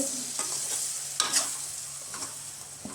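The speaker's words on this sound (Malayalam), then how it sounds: "നല്ലോണം ഇളക്കി കൊടുക്കുക, എന്നാലേ ആ മസാലയൊക്കെ അതിൽ കാടമുട്ടയിൽ പിടിക്കുള്ളൂ" A spoon stirs quail eggs through onion masala frying in a pan, a steady sizzle broken by repeated scraping strokes close by.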